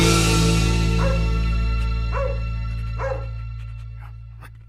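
A dog barks three times in an even rhythm, each bark moderately loud over a steady musical backing of sustained tones that fades gradually toward the end.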